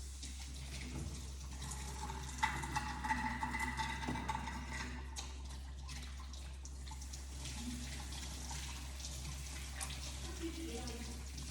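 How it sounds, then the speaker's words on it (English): Tap water runs steadily into a kitchen sink for hand washing while cooking a T-bone steak, a constant faint splashing stream with low background hum and small clatters. "let me wash my hands because I just touched on that"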